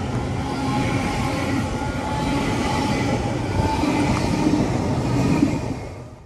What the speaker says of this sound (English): here's the Great Western Railway service to London Paddington from Cardiff Central